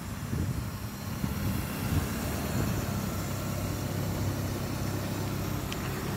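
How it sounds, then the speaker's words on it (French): A car engine idles steadily, a continuous low rumble with a broad hiss over it, fairly loud and close, with no talking. "Donc j'ai mis le moteur en marche, je vous laisse écouter."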